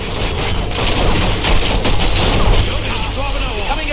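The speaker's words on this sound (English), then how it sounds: "Shoot the fire extinguisher!" Rapid gunfire bursts from The Matrix: Path of Neo video game in a training simulation, loud and continuous over four seconds, with game voices shouting over the shooting.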